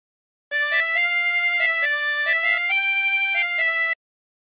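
A harmonica plays a short melodic phrase from O Canada, clear sustained single notes stepping up and down in a steady rhythm, some bent, close and alone with no talk.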